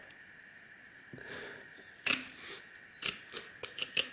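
Gold-plated fingers being cut off computer RAM sticks, heard as a run of sharp, close snipping clicks that start sparse and grow denser, over a quiet background.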